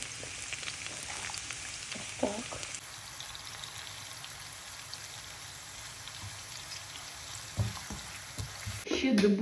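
Onion sizzles steadily in a hot pan with a constant crackling hiss, a couple of brief clatters and stirring sounds breaking through.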